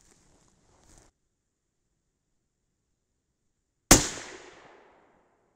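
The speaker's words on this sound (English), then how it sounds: "So we'll watch and see if this first shot, see if it goes left and see if it has lower velocity." A single loud 6.5 Creedmoor rifle shot with a 135gr Berger Classic Hunter load over 42.0 grains of Reloader 17 cracks out after near silence, then trails off in a fading echo for about a second.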